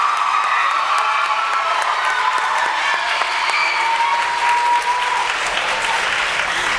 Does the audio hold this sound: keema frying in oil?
no